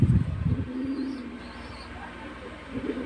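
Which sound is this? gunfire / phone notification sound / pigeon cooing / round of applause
pigeon cooing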